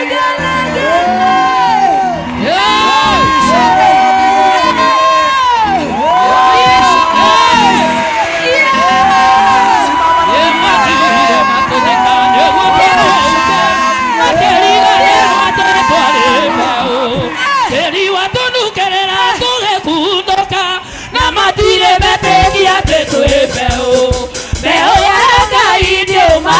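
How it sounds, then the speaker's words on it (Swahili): A church congregation at a pastor's elevation service cheers loudly and ululates, a dense wall of high trilling voices and shouts that rises and falls over nearly half a minute, with no clear speech on top. "tunapiga shangwe na vigelegele kali sana"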